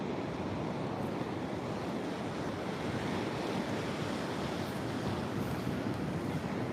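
Ocean waves breaking on a beach with gusting wind, a continuous loud roar of surf and wind buffeting the microphone throughout, with no voices.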